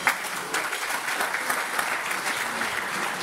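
An audience at a referees' gala claps steadily, a dense, sustained round of applause from a sizable crowd, fairly close and even in level throughout.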